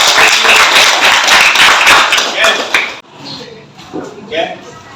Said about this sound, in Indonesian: beri tepuk tangan dulu buat kelompok B